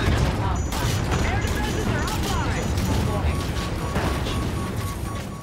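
Heavy booming ship cannon fire and crashing impacts in Call of Duty: Infinite Warfare, a dense continuous barrage with metallic clanks, filling the whole stretch.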